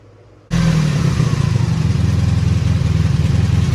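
A four-cylinder engine that sat unused for 24 years fires abruptly after a moment of quiet. It settles into a loud, steady, close running rumble with a fast, even pulse.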